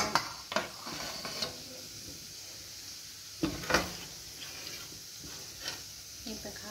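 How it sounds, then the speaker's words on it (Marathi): Curry leaves and fish masala frying in a pan for a spicy Marathi fish curry, with a steady sizzle broken by several sharp stirring scrapes and clinks of a spoon against the pan, up close. "आता तो आपण कढीपत्ता पण टाकणार आहोत. मस्त असा फ्राय झालेला आहे."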